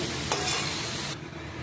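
Chilli chicken with green chillies and three mixed sauces being stirred in a hot pan, a scraping stir over steady sizzling that drops suddenly quieter near the end, with no talking.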